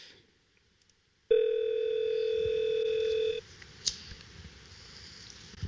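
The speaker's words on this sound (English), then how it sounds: "Here's a little clip of someone calling this telephone number." A telephone call to a line connected live to an Austrian Alpine glacier: a steady, loud dial tone sounds for about two seconds and then stops, leaving faint background noise and a few soft clicks.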